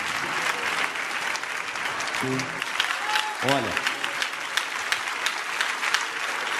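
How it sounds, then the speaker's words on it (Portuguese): A church congregation claps and applauds for Jesus during a service, a loud, steady wash of many hands with a few sharper claps, while a voice briefly speaks over it. "Podem bater as palmas para Jesus."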